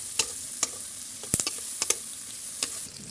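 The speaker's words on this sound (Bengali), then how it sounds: "মাছগুলো হালকা বাদামি করে ভেজে নিব" Fish sizzles as it fries in oil with chopped onion, a steady hiss broken by sharp stirring clicks and pops of the spatula, close up and alone.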